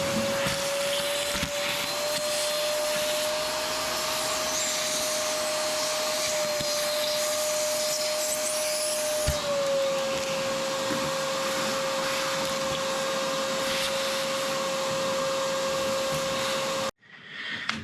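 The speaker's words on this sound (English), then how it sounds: "I'm going to go ahead and just vacuum this out before I pull the valve cover" Steady, loud whine of a vacuum cleaner sucking rodent debris off the valve cover of a Honda Acty engine, its pitch dropping slightly midway, running continuously before cutting off abruptly near the end.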